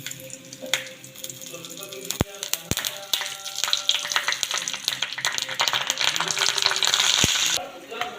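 Vigorous crackling and spitting as whole chillies fry in hot oil with asafoetida, building louder with sharp pops and clinks, close by.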